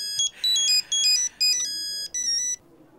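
A mobile phone ringtone plays a bright electronic melody in short repeated bursts with gaps between them, fairly faint against a quiet background.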